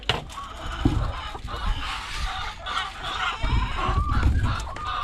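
Chickens clucking inside a newly installed backyard coop, a steady overlapping chorus of clucks and fowl calls at close range, with a few louder squawks rising above the flock and no speech.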